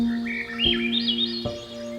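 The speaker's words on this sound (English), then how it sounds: "The birds are singing in the trees." Birds sing in the trees, with a rising and falling warble of chirps up close, set over a steady electronic hum and two low thumps.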